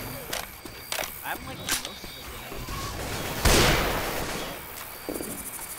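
Rapid AK rifle gunfire in the zombie shooter Left 4 Dead 2: several sharp shots early on, then a louder burst of fire that trails off, with voices talking over the game.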